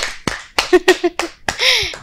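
Children clap their hands in a short burst of sharp, separate claps, loud and close, with voices among them.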